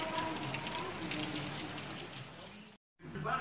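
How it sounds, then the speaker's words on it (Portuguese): Heavy rain falls steadily outdoors as a dense, even hiss of drops on surfaces. It cuts out for a moment near the end and then resumes at full strength. "Chovendo, tá chovendo muito."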